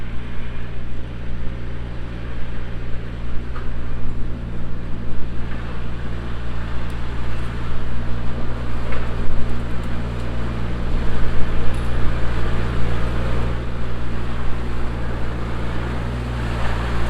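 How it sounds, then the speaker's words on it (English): A tractor driving through deep ruts on storm-damaged ground, heard as a steady low engine drone under a wash of wind and rumbling, loud and continuous throughout. "let's go get the tractor and just full send it straight through here"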